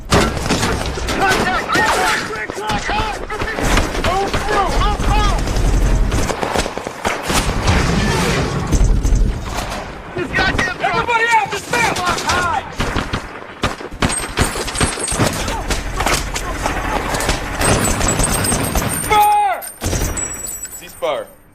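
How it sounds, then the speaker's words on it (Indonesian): Dense, loud gunfire crackles almost continuously amid booms and chaotic battle noise in a war film firefight with terrorists firing from a hill, with voices shouting underneath throughout. "dari arah bukit para teroris menembaki mereka dan kontak senjata pun tidak terelakkan lagi"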